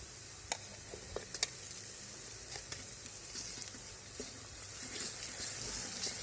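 Ginger garlic paste hits browning onions in a pan, setting off a faint steady sizzle broken by a few sharp clicks and pops.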